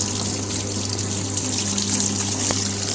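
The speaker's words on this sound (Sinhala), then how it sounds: "මේ විදියට පාත් කරලා වතුර ටික ඔක්කොම අරගන්න පුළුවන්" Water gushes steadily out of an ice cream machine as it drains after a wash cycle, a continuous rushing flow with a pump-like hum underneath.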